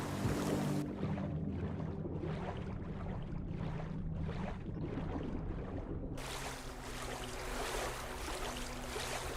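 A boat glides through water in the video game Tainted Grail: The Fall of Avalon, with steady rushing and splashing wash, rhythmic pulsing strokes in the middle, and a low drone underneath.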